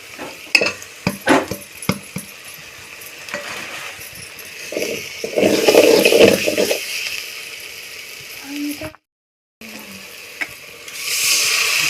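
Spice masala frying and being stirred in a pan for a fish dish, with soft sizzling, scraping stirs and a louder burst of frying midway, a brief dropout, then sizzling resumes.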